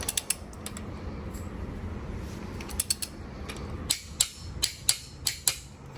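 Torque wrench tightening the main cap bolts on a Honda J35 engine block to spec, a run of sharp, close clicks and ratchet creaks, sparse at first then a quick cluster of louder clicks near the end over faint room noise.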